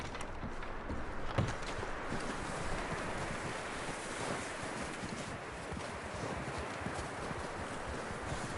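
Horse hooves clop steadily in Red Dead Redemption 2, a rhythmic, moderately distant patter set within a broad wash of wind and surf-like ambience, with no voices.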